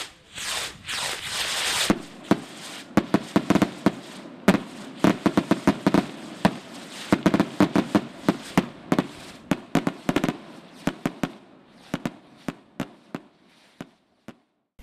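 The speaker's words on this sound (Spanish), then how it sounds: "encender la mecha de la traca de cohetes" A long string of firecrackers, lit by fuse at a celebration, pops off in rapid, uneven bursts, loud and close, crackling continuously before thinning out to scattered bangs at the end.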